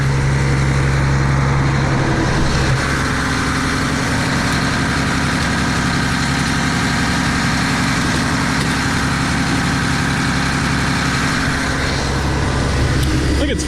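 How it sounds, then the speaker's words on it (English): A farm tractor's engine idles steadily, then rises slightly in pitch as it is revved a little with the cooling fans running, a loud, continuous low drone with a broad whooshing hiss throughout. "I'm going to turn the fans on and rev up the motor a little bit"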